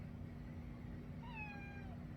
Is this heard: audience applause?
no